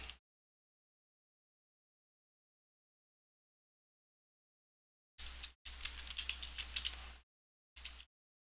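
Someone types on a computer keyboard in a few short bursts of quick clicky keystrokes, separated by long stretches of silence.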